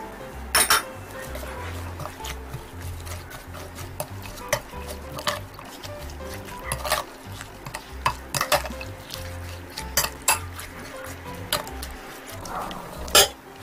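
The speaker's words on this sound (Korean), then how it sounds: "여기에 채 썬 홍고추와 밤을 넣어서 골고루 섞어주세요." Seasoning paste with sliced red chili and chestnuts is stirred in a bowl for Korean perilla leaf salad, with soft repeated clinks and scrapes of a utensil on the dish and quiet background noise.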